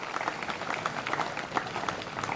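Steady audience applause for sports winners at a polytechnic college day celebration, a continuous moderate patter of many hands clapping at a distance, without talk.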